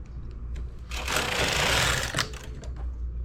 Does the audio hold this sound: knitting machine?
yes